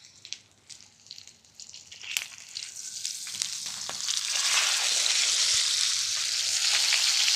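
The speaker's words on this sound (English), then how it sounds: "I'll be flipping the steak right now." Ribeye steak sizzling in a pan after being flipped, starting with scattered crackles and pops, then swelling into a loud steady frying hiss that holds to the end.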